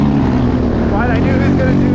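A 2006 or 2020 Honda CRF450X dirt bike engine revs up on low-traction snow at Hungry Valley, a loud continuous drone with a rising pitch sweep in the middle, while voices talk over it.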